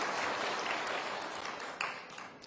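Church congregation applauding during a Sunday sermon, a steady, dense wash of clapping that fills the whole stretch without speech and thins slightly toward the end, with a couple of sharper claps standing out.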